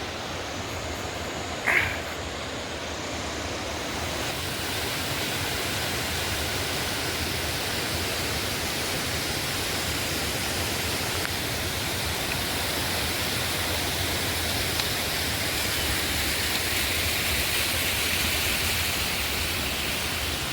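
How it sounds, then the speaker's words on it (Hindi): Steady, dense roar of a mountain waterfall on the Madmaheshwar trek in the Himalayas, filling the whole stretch, heard close and unbroken, with one brief sharp sound near the start. "यहाँ सामने आ गया एक खूबसूरत सा झरना"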